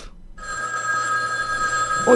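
A telephone bell rings in a Korean political talk setting, a steady electronic ring that starts abruptly after a moment of quiet and holds continuously for about two seconds, clear and fairly close.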